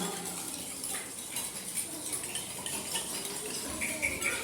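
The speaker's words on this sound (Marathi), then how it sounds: "एका हाताने ग्लास पकडून ठेवा चमच्याने हलवा" A metal spoon stirs alum crystals in a glass of water, making continuous clinking and swirling scrapes against the glass, close and fairly loud without speech.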